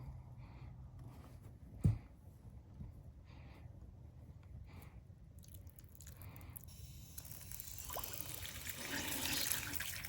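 Water flushing out of an outdoor hose bib during a faucet replacement, a soft trickling and dribbling flow that builds toward the end after an early clunk, quiet and close with no talking.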